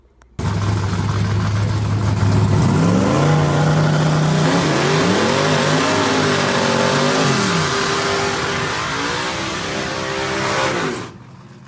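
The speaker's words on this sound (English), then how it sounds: "As Billy finished his burnout" Turbocharged drag-racing truck doing a burnout at a drag strip starting line on a glue-prepped track: loud, close engine roar that climbs through rising revs and gear-like pitch sweeps for about ten seconds, then cuts off.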